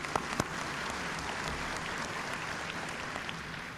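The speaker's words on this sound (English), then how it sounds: "Give a round of applause." An audience at a 1998 high school commencement claps in a sustained, even round of applause that fills the hall, with no talking.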